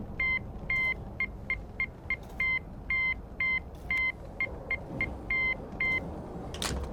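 In the Infinite Warfare zombies map Shaolin Shuffle, a ringing phone taps out a Morse code signal as a run of short and long electronic beeps, clean and evenly pitched, over a low background rumble.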